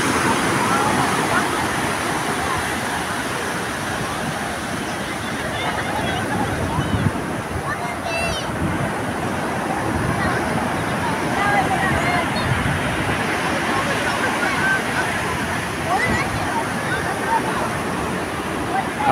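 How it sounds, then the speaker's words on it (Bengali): Sea surf at Puri beach washes in over bare feet and draws back, a steady broadband rush of close waves with wind buffeting the microphone throughout, no voices. "দেখছেন পায়ের পাতা ভিজিয়ে দিয়ে জল আবার ফেরত চলে যাচ্ছে"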